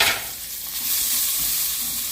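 Roughly chopped onions hit hot oil in a pot for a braised pot roast, giving a steady close hiss and sizzle that stays even throughout, with no talking.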